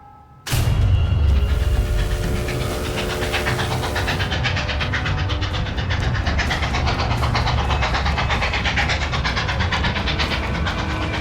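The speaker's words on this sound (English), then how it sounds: "A packed train speeds on its way south" A train rumbles steadily along the tracks, loud and close, with a continuous rolling roar and rhythmic clatter after a sudden onset.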